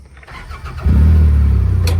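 A car engine turns over and catches, then settles into a loud, steady low rumble as the vehicle pulls away close by.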